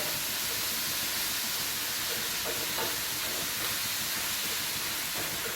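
Constant hissing sizzle of pork sautéing in a hot pan for menudo, steady and close, with a few faint clinks and scrapes underneath.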